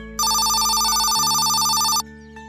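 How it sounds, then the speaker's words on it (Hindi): A telephone bell rings in one loud, continuous trilling burst of about two seconds, sharp and close, starting just after the clip opens and cutting off cleanly, with a low steady hum underneath. "आपका फोन आ रहा है, बात कीजिए।"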